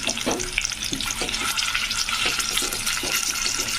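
Stuffed bitter gourds fry in oil with a close, bright crackling sizzle, broken by repeated soft knocks and scrapes as they are pressed and moved, no voices.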